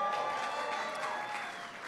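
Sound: audience applause

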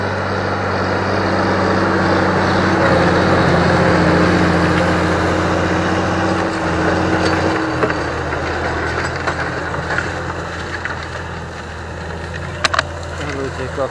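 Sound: large Fendt tractor engine working, disc harrowing

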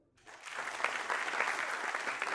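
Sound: audience applause for Anand Kumar

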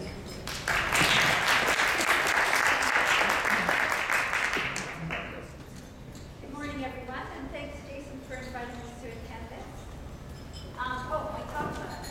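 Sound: audience applause welcoming a speaker

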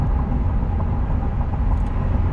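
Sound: 2016 Ford F-150 accelerating uphill, transmission downshifting

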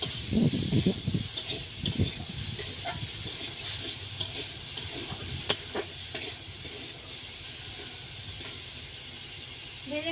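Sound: frying food in a pan until browned

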